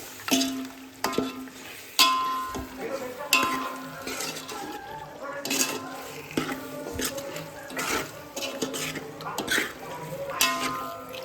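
A spoon stirs chicken through a pan to mix it, giving repeated scraping knocks and clinks against the metal over a soft low sizzle. The strokes are close and fairly quiet, in an uneven rhythm.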